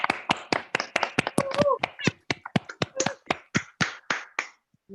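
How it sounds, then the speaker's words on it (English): A live poetry-event audience applauds and snaps for a poet named Rachel, with sharp, close, rapid hits in an uneven rhythm. "So another round of applause, please, for Rachel."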